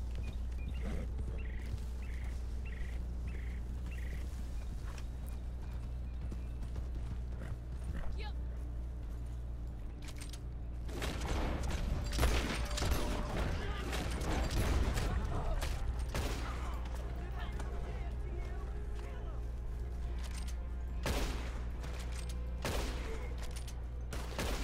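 Gunfire during a mission in the video game Red Dead Online, with a rapid series of sharp shots and bursts mixed with game background noise. Talk occurs over parts of it.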